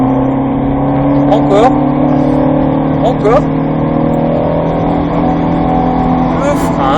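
A Mustang GT500 engine hums steadily at close range, holding a constant drone while a voice speaks briefly over it.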